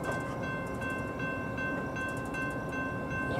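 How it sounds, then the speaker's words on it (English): A Metra commuter train on the Northwest line pulls into Arlington Heights station, a continuous rumbling roll of railcars with tonal horn and brake ringing layered over it, fairly close and steady. "Northwest Mainline train number 665 to Harvard is now arriving."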